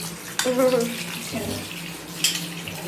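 Tap water runs steadily while fish are rinsed in a home kitchen, a continuous splashing wash with a brief clatter partway through and a voice speaking near the start.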